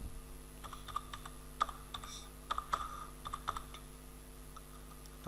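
Sparse keyboard clicks on a computer keyboard while entering text for a logo design, with isolated keystrokes and short bursts spread over a few seconds against a quiet steady hum, no talking.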